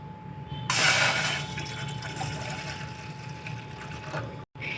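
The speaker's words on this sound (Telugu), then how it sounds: "వాటర్ అయితే లీటర్కి కొంచెం తక్కువగా వేసానండి." Water pours into a wide cooking pot set on a lit stove, a strong splashing gush that starts abruptly and runs steadily for several seconds before cutting off near the end.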